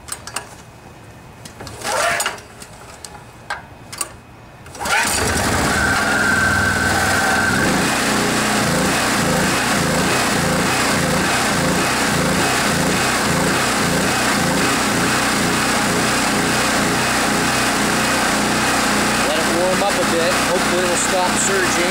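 A Generac Centurion 3250 portable generator, just repaired after storage, fires up after a few quiet knocks and runs loud and close with a rhythmic wavering surge in its engine note.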